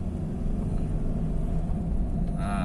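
Low, steady rumble of a Honda Jazz engine heard from inside the car as a little throttle is applied, with the tone holding even and close and no voices.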